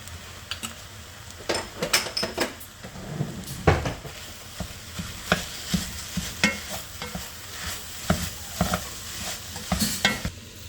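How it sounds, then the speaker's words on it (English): Ground meat browns in a pan with mint, thyme and sage for lasagna, a steady close sizzle punctuated by frequent clacking scrapes as a utensil stirs it over and over. "So I'm just cooking this meat."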